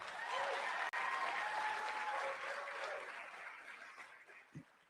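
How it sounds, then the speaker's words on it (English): An audience claps steadily in a sustained round of applause that gradually thins out toward the end. "another round of applause for Jeff Hunt."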